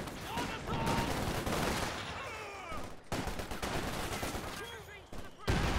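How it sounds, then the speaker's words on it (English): Two machine guns firing in the World War II strategy game Company of Heroes 2, a dense, steady rattle of automatic gunfire broken by brief gaps, with battle noise and a faint voice underneath. "Two machine guns here as well."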